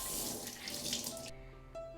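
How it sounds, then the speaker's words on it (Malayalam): Water streams and splashes from an absorbent sheet as it is wrung out by hand, a steady close gush for just over a second before it cuts off, followed by quiet. "ഇങ്ങനെ പിഴിയുമ്പോൾ കാണാം അത്രയും വെള്ളം പോയത് കണ്ടോ"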